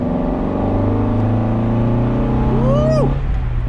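A $1000 Mazda Miata engine idles steadily, then revs sharply under a quick stab of throttle, the pitch climbing and dropping back within a second, loud and close from inside the cabin.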